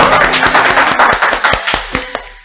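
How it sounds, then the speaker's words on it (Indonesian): A studio audience at a podcast recording claps hands loudly, individual sharp claps merging into a dense burst that thins toward the end, leaving a few isolated slaps as it dies away. "Mana tepuk tangannya?"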